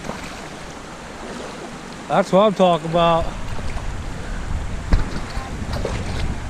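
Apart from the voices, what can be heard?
cold river water flowing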